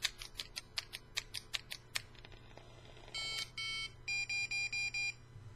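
Electronic vape device beeping out a resistance reading in ohms: a run of short quick beeps, then longer, louder tonal bleeps in a paced sequence, heard alone and fairly close.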